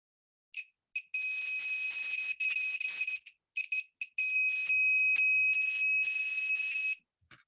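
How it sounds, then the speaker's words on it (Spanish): A battery-powered buzzer alarm gives a few short shrill beeps, then sounds in long, piercing continuous tones broken by brief gaps, loud and close. "ahí puede ser es una alarma"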